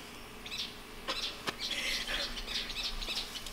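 Bird at the Jumonville Glen site chirps in a quick series of bright, repeated calls over a steady outdoor background, moderately close, with no talk.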